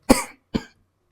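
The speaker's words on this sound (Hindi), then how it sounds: "खांसी की बारी यार" Two quick coughs from a lone man, close and loud, about half a second apart, with silence afterward.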